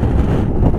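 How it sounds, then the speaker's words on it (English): Strong wind buffets the microphone on a Honda ST1300 motorcycle ride, with a loud, continuous low roar. "except the wind, very windy today."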